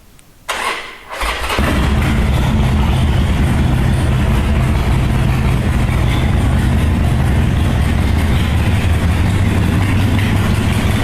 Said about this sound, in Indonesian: Nah, ini knalpotnya pakai Python ya Bor.